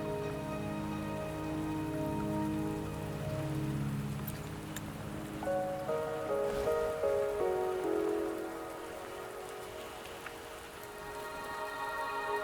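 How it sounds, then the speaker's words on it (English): Steady rain falls in the video game Wuthering Waves on the way to Mt. Firmament, a soft continuous patter beneath sustained musical tones that shift partway through, with no voices. "the rain won't last much longer"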